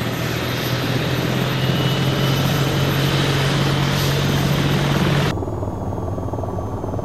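An AH-94 helicopter's engine and rotor spooling up in the VTOL VR video game, a loud steady turbine whine and rotor drone that cuts off abruptly near the end.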